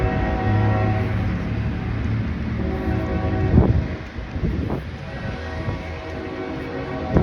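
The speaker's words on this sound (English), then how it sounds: "good thing I crossed the tracks before the train came" A train rolls past on railroad tracks during a walk, a broad steady rumble with wind buffeting the microphone and a couple of sharper clanks partway through, no talking.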